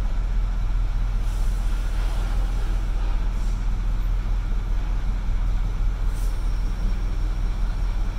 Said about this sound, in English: Takes a second for the brake chambers to recharge on this